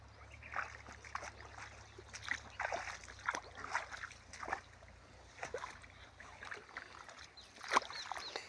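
Faint irrigation water gurgles and splashes through a furrow in a potato field in soft, irregular bursts over a quiet, steady background.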